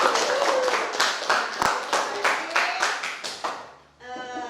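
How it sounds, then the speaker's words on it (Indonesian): A classroom of students clapping their hands together in a short burst of distinct, rhythmic claps that fade out, followed by a brief voice at the end. "Kita tepuk tangan dulu."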